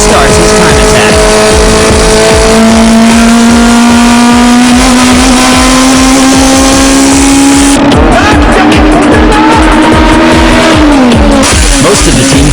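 A race car on a time attack qualifying lap, its engine roaring loud and close as it revs up through the gears and shifts, with tire noise at times and a commentator talking over it.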